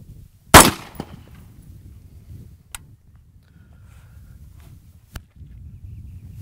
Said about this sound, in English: we're gonna do 3 shots, open barrel, on each of the muzzle brake compensators, 3 shots